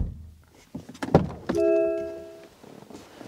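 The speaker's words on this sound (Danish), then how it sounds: "Lyden, når du lukker døren i en MG4, er mere end bare acceptabel." A car door on an MG4 electric car shuts with a solid thunk, preceded by a few handling clicks and followed by a brief electronic tone sustaining for about a second, close and loud with no talking.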